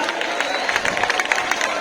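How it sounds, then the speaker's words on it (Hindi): Schoolchildren and teachers applauding at a school Teachers' Day event, a brief burst of steady crowd clapping with some voices mixed in. "इधर इधर जोरदार तालियां बजा।"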